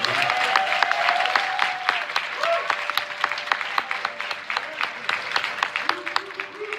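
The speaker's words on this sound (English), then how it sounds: "give them another round of applause for their accomplishments" A graduation audience claps steadily in sustained applause, loud at first and then tapering slightly, with a faint hum of voices underneath.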